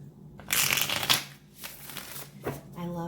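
Close, papery shuffling of an Enchanted Love Tarot deck in two or three brisk riffling bursts, ending as a voice begins talking.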